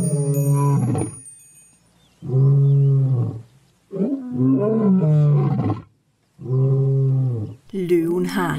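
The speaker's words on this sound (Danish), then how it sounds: "Vil du gerne høre løven brøle?" Four deep, drawn-out lion roars, each a long throaty bellow separated by brief silences, loud and close, with a final rougher growl at the end.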